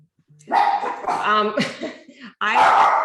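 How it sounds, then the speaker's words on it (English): Dogs bark close by in a home setting: a run of loud, excited barks and yelps in quick bursts, with a short pause before a final burst. "Sorry, dogs."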